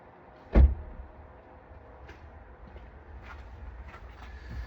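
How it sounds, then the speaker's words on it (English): A car door swings open with a sharp mechanical click and thud near the start, followed by a low, steady interior hum with faint clicks. "I'm just going to simply open the door."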